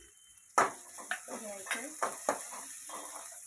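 Two medium onions hit hot oil in a pan for a potato bhaji with a sudden sizzling burst, followed by several soft scrapes and clinks of stirring over a faint, quiet fry, with a brief spoken word.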